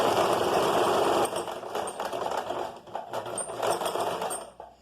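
A sewing machine stitches a garment pocket in quick bursts, its rapid mechanical whir close and clear, pausing briefly and restarting with light clicks between runs.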